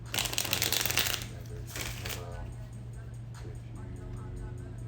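Tarot cards are shuffled in a quick riffling burst up close, then a shorter second shuffle, with light handling sounds and a voice speaking afterward.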